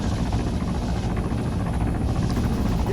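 A helicopter in the Arma 3 combat game gives a steady, loud rotor drone with a dense low throb and no talk, holding level throughout.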